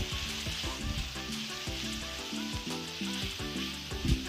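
Dried red chili paste fries in a pan for a village-style dish of kochur loti with dried hilsa. A steady, close sizzle runs throughout, with soft stirring scrapes and clinks underneath and no talking.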